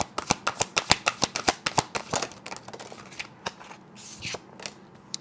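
A deck of tarot cards shuffled by hand, a quick run of crisp riffling flicks at a steady rhythm, then slower, looser card slaps and rustles, close and clear with no talking.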